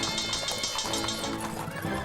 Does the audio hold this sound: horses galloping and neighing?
yes